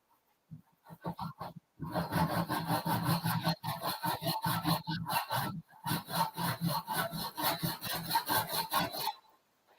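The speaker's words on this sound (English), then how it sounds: "when I'm using this saw and I'm just hand sawing these things" A hand saw rasping through wood in steady back-and-forth strokes, close and rhythmic, after a few tentative starting strokes.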